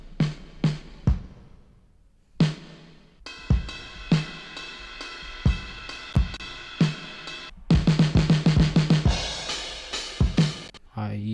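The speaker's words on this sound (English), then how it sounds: "With the drums, I use addictive drums." A drum track programmed in Addictive Drums software, with punchy kicks and snare hits, sparse at first and then a fuller groove with cymbals, building to a busier pattern near the end; no voices.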